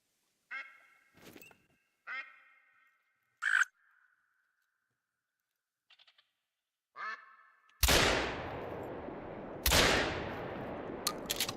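Duck mating calls in theHunter: Call of the Wild, several short quacking bursts spaced apart, followed by two loud, close shotgun blasts with lingering reverb.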